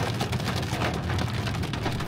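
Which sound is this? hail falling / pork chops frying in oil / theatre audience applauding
hail falling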